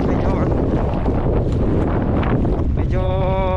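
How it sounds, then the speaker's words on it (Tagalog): Strong wind buffets the microphone at a coastal fishing spot, a constant loud roar with a brief tonal whine near the end. "Mahangin."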